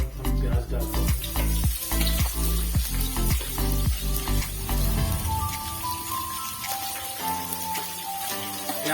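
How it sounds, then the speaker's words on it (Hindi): Cashews and onions crackle and sizzle in a hot pan, a dense spitting fry with sharp pops early that settles into a softer steady sizzle, close by and without talk. "काजू को हल्का सा ब्राउन कर लेते हैं, उसके बाद तुरंत हम प्याज डालते हैं"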